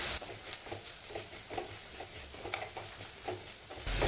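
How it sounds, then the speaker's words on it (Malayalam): Coriander and turmeric spice masala stirred in a pan for a Malabar-style clam meat roast, giving faint, regular scraping strokes over a low sizzle, close by and quiet, with no talking. "1 മിനിറ്റോളം അതൊന്നും ഇങ്ങനെ ഇളക്കി കൊടുക്കാം."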